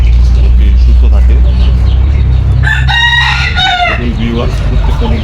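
Desi chickens on a farm give off scattered clucks, and a rooster lets out one loud, drawn-out crow midway, all over a steady low background rumble.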